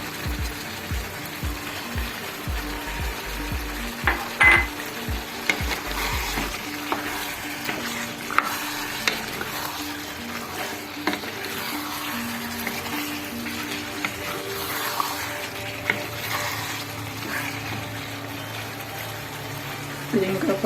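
Chilli chicken with green chillies fries and is stirred in a pan, giving a low, continuous sizzle with clinks and scrapes from the spoon. Knocks come early on, and a person talks over the cooking.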